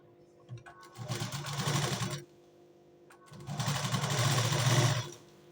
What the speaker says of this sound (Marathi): कमरेकडच्या साईडून मी शिलाई मारून घेते.